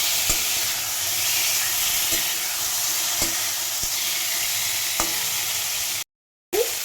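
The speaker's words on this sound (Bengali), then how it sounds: "চিকেনটা ভাজা হয়ে গেছে, খুব বেশি ভাজবো না, হালকা করে ভাজলাম।" Chicken pieces frying in a pan hiss and sizzle steadily, with occasional sharp clicks of stirring, before a brief cut to silence near the end.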